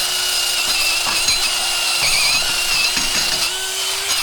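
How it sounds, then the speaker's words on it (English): Wire wheel scrubbing a brake rotor surface on a Subaru Outback during rear brake repair, a steady high-pitched whirring grind with slight variations as the brush presses, continuous and close with no talking. "At this point, I like to wash this off with a little wire wheel action."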